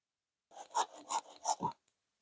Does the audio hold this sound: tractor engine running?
no